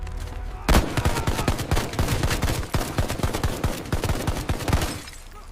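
Dense battle gunfire from a war film: rapid bursts of loud, sharp shots crackle in quick succession, close and overlapping, with a short lull before the barrage and a fade at the end.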